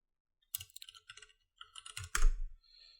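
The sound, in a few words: typing username on computer keyboard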